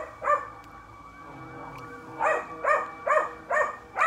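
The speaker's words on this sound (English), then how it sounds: "Sorry about the sirens and the dog." A dog in a backyard garden barks in a string of sharp, moderately distant barks: one early bark, then a quick run of five, with faint sirens wailing in the background.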